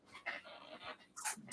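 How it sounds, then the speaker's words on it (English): A pet dog pants and whimpers indoors, a few soft, close breathy bursts and whines at low volume with no speech over them. "sorry, that's our dog, guys."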